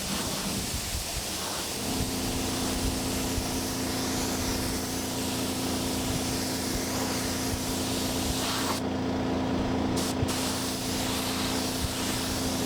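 A spray gun applying clearcoat to a track motorcycle's fuel tank hisses steadily and continuously at close range, a dense, even rush of air and paint mist with no talking.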